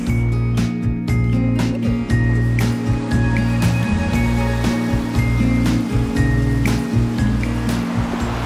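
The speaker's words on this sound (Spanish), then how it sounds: "Esto es la caída de los chorros del río Mundo." The Los Chorros waterfall at the source of the Río Mundo, beside a cave entrance, makes a steady, loud rush of falling water that holds throughout with no voices.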